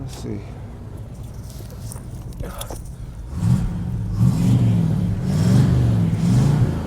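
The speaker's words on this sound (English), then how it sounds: "I'm about to hit the gas on a couple of these. Let that exhaust up out the tailpipe real quick." A car engine being revved during a cold start in a driveway, with rising growling revs in the second half that grow louder over a steady idle, while someone talks throughout.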